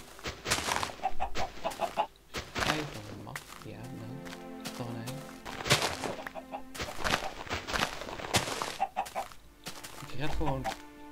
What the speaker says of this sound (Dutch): Er zit hier een kip.